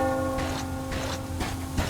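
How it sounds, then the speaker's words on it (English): In the Metro Exodus video game, a distant bell tolls through a dense ambient backdrop, and its strokes ring out faintly and evenly in a low, humming mix. "Do you hear that bell?"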